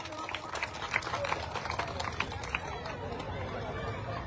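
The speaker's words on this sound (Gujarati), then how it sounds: "તાળીઓના ગગડાટ સાથે પણ એમનું અભિવાદન કરશો" Crowd applause at an outdoor political gathering, with dense clapping and cheering that rises and then thins out under a murmur of voices.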